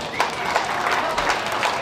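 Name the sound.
crowd cheering and applauding for a fair class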